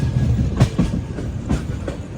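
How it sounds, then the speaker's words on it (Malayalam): The Kerala Express, riding in 3AC, runs into Nagpur Junction with a loud, steady rumble from inside the coach and periodic clickety-clack wheel thumps over rail joints. "നാഗ്പൂർ ജംഗ്ഷൻ റെയിൽവേ സ്റ്റേഷനിലേക്ക് ഇതാ നമ്മുടെ ട്രെയിൻ എത്തിക്കൊണ്ടിരിക്കുകയാണ്"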